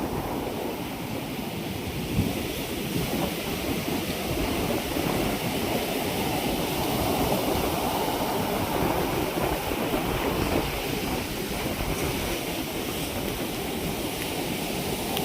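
Rough sea waves surge and wash continuously, a loud broadband roar with wind buffeting the microphone and no let-up over the whole stretch.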